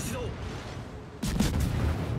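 Heavy naval guns on a destroyer in a warship combat game, a rumbling background that suddenly breaks into a loud, booming salvo partway through and keeps resonating afterward.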